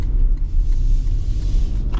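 2022 Toyota Tundra SR5 TRD Off-Road truck accelerating on partial throttle: a loud, steady low engine and road rumble heard from inside the cab, no talking.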